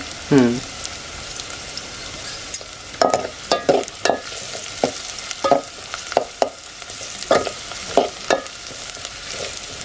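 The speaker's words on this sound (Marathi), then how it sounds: "कांदा लालसर होतोय तोपर्यंत कढीपत्ता टाकते" Onions fry in oil in a village kitchen in Konkan during monsoon rain, with curry leaves added, giving a low steady sizzle broken by sharp crackles and scraping stirs, close and fairly loud.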